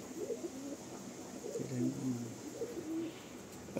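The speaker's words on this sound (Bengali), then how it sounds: "এই হলো দুটো পায়রা, ফুলসিরা ঘরের পায়রা।" Domestic pigeons coo softly and repeatedly nearby at a loft, their low rolling calls overlapping in a steady rhythm over faint background noise.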